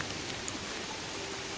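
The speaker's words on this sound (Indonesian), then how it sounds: "karena sekarang lagi gerimis kayak gini" Light drizzle falls on a slick, muddy trail on Gunung Aseupan in Banten as a steady, soft hiss with a few faint drop ticks and no voices.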